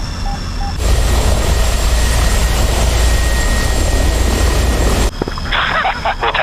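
Jet aircraft engine during taxi in the flight simulator DCS World: a steady loud roaring whine with a sustained high tone, cutting down abruptly near the end as another sound with clicks takes over.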